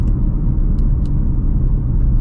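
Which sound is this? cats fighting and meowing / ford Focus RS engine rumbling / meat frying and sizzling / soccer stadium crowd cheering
ford Focus RS engine rumbling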